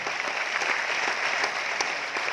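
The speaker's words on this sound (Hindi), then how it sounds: "ताली बजा लीजिए।" A hall audience at a talk in Aurangabad claps steadily, an even wash of many hands with occasional sharper claps, sustained and fairly close.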